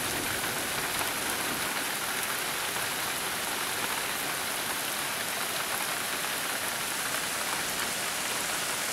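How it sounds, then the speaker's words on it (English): Heavy rain pours down outside during a lightning storm with overflowing gutters. It makes a dense, steady roar of hiss that stays loud and unbroken throughout, with no talking. "the rain is getting really heavy out there"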